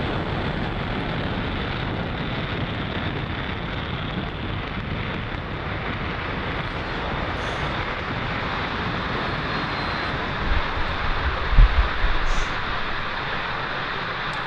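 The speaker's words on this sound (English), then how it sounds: "Falcon 9 has successfully lifted off from Space Launch Complex 40 at 6:13 p.m. Eastern Time" A SpaceX Falcon 9 rocket climbing after liftoff from Space Launch Complex 40 makes a continuous broad rumbling roar, heard from a distance and steady throughout, with some wind buffeting on the microphone.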